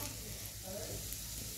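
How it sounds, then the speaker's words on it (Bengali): Kohlrabi frying in an open pan after being cooked covered, a short burst of steady, close sizzling with faint stirring scrapes and no speech. "এবার ঢাকনা খোলা অবস্থায় আমি কিছুক্ষণ ভেজে নেব"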